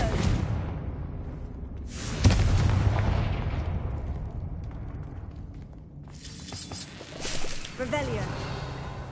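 A Confringo blasting spell in Hogwarts Legacy on PS5 erupts in a loud, booming burst with a whooshing rush, followed by a rumbling decay, with a second fainter blast later.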